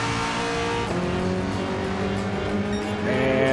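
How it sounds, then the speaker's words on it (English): A Ford Mustang V8 Supercar engine, running in second place during a race, roars loudly and continuously, its pitch stepping sharply as it shifts gears, with other cars audible close by. "And you can hear the gears pumping."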